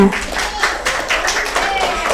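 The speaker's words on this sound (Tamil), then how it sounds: "எல்லாரும் கைத்தட்டுங்க" A crowd of people clapping hands together at a church Vacation Bible School cultural program, loose uneven claps close by, mixed with talk and noise from the hall.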